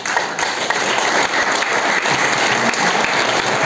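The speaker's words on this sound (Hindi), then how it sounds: "एक बार मैं चाहूंगा जोरदार वाली ताली बजाएं आप" Loud, sustained applause from a seminar audience at a business gathering, dense steady clapping filling the room without a break from start to finish.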